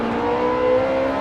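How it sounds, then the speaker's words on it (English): Ferrari F430 Scuderia V8 engine revving in Gran Turismo 7 on the Nürburgring, a steady, loud, smooth high-pitched drone with rich harmonics, sustained without a break. "Right, let's lean on that V8, open her up. Oh, she sounds fantastic."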